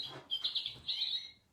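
Small goldfinches chirp and call near a feeder in a quick run of bright, high tweets, fairly close and steady over a soft background.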